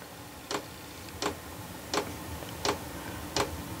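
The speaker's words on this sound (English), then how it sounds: "You can hear the burner just lit off." A Vevor diesel heater starts its burner with five faint, evenly spaced ticks about every 0.7 seconds over a low steady hiss.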